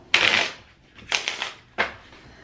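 Playing cards being shuffled close by, heard as three crisp riffling bursts, each brief and papery with short gaps between them.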